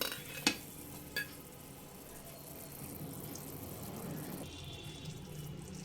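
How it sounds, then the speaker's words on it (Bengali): Rice for sweet zarda pulao gets stirred in a pot over a gas flame, two sharp scraping clinks early, then a steady low sizzle and bubbling hiss. "হালকা হাতে আমি একবার নেড়ে দেব"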